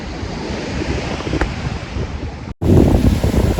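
Sea waves wash against the shore of a fishing village at Koodankulam, a steady broadband roar buffeted by wind on the microphone, with a brief dropout before the surf returns louder and closer.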